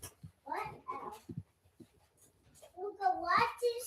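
A stray house cat meows a few times indoors, drawn-out tonal calls mixed in among a child's and an adult's conversation, close and fairly quiet.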